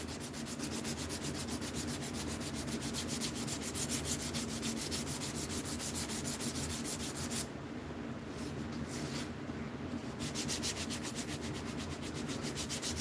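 A knife blade being hand-sanded while its shape is refined, with steady, continuous rasping strokes that run close and even throughout and dip briefly in brightness partway through.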